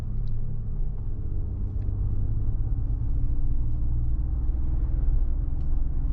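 A 2025 Mercedes-AMG G-Class is heard from the cabin while accelerating on a city night drive, producing a steady, deep engine rumble and road drone that swells slightly and continues throughout.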